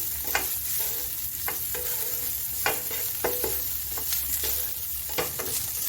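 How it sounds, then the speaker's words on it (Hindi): Onion and chicken fry over a medium flame in a pan, a dense steady sizzle punctuated by repeated brisk stirring scrapes at an uneven rhythm, close and fairly loud. "इसको 1 मिनट के लिए हम मीडियम फ्लेम पर भूनते हैं।"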